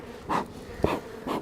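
Honey bees around the hives, close buzzing passes that swell and fade in three short bursts over quiet background.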